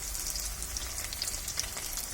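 Ginger-garlic paste and softened onions fry in a pan with a soft, steady hiss and faint crackle, close by and quiet, with no voices.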